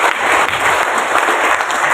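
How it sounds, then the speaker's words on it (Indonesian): A church community celebrating its 33rd anniversary in Semarang breaks into loud, dense applause, a steady wash of clapping hands from a crowd heard up close. "Tepuk tangan untuk PD Gabriel."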